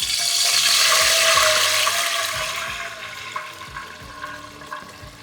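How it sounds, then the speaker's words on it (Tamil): About two cups of tamarind water are poured into a pan for temple-style puliyodharai, a loud rushing splash that gradually tapers into softer bubbling and trickling. "இந்த அளவுக்கு புளியை நல்லா கரைச்சி ஒரு 2 கப்பு தண்ணியை விட்டு வச்சுருக்கேன். இதை இதில் ஊற்றிக்கலாம்."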